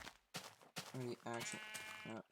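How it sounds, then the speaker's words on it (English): Sheep bleating in the Minecraft-style game FarLands, several wavering, nasal bleats in quick succession, fairly loud and close, with game sounds around them and no talk over them. "Sheep, I was like, oh, what is that noise?"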